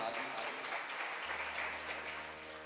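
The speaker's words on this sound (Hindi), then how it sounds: "उन सब भाइयों के लिए भी एक बार जोरदार तालियां।" Strong, sustained applause from an audience honoring the ashram's saints at a Shrimad Bhagwat Katha gathering in Vrindavan, dense clapping filling the whole stretch with no voices, easing off slightly toward the end.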